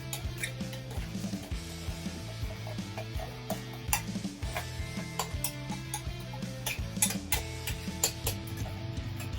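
Thai curry paste for a roast monkfish curry is stirred in a pot, producing soft, irregular ticks and scrapes of a utensil against the pan over a faint steady background hum.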